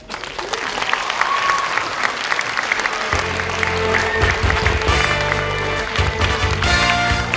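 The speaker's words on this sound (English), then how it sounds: "We all deserve a big round of applause." An audience at a graduation ceremony applauds in a dense, sustained burst of clapping. Background music begins partway through and continues under the applause.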